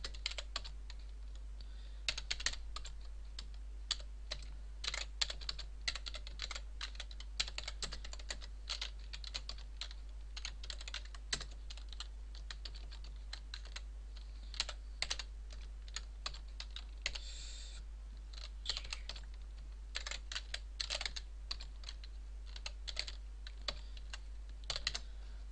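Steady clatter of keys as code is typed on a computer keyboard, close and fairly quiet, with irregular bursts of keystrokes and no talking throughout.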